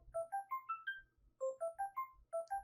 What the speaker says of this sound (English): if disappointment ever had a sound, it would sound like a ringing phone.